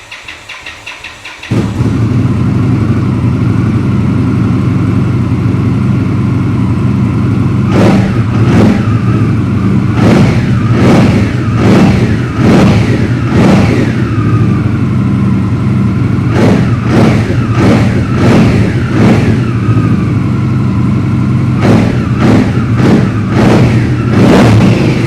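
A superbike engine catches and fires up, then settles into a steady, loud idle, punctuated by a series of sharp throttle blips in quick clusters, close by and with no talk.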